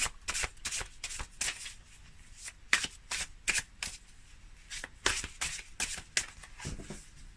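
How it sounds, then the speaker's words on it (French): A deck of 100 thin Hellenic Oracle cards with a linen finish being shuffled by hand, giving quick repeated riffling bursts in an irregular rhythm, close and fairly quiet. "Il y en a 100, donc c'est absolument parfait pour les mélanger."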